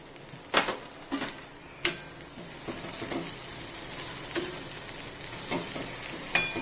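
Green chillies and coriander are stir-fried in a pan for a Khandeshi chilli bhaji: a soft, continuous sizzle punctuated by several sharp scrapes and knocks of the stirring spoon at irregular intervals.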